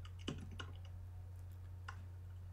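A computer keyboard gets a few faint, sparse key clicks over a steady low electrical hum, with no voices.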